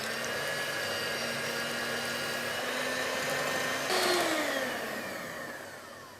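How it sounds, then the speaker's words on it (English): A steady electric whisk drones loudly and continuously as it beats four egg whites toward stiff peaks for a cheese soufflé, its pitch shifting slightly near the end as the beaters move through the bowl. "I'm just going to whisk my 4 egg whites until they form just stiff peaks"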